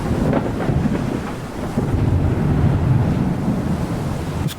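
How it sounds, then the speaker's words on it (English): Steady roar of wind and rushing waves from a sailing video game, loud and continuous throughout with a brief dip in the middle. "Quite a lot of wind."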